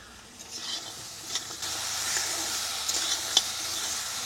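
China greens stems stir-fried in a pan, a steady broadband sizzle with scattered scrapes and clicks of stirring throughout, fairly close, with no talking.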